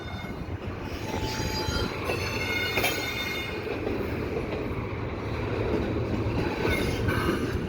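CPKC intermodal freight cars rolling through the Lachine rail yard, a steady rumble with clattering wheels and high squealing from the rails, continuous and fairly close.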